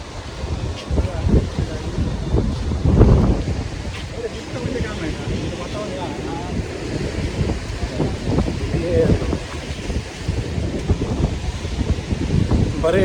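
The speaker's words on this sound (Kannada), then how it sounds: "ಅಲೆಗಳು ಜಾಸ್ತಿ ಇದೆ ಅಂತ" Strong sea waves churn at Kanyakumari beach, heavy rumbling surges mixed with gusting wind against the microphone, with one loud crash early on and a voice speaking at times.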